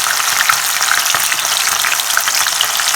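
Masala-coated fish pieces hiss loudly and continuously in hot oil, a dense, even sizzle that runs the whole time without a break.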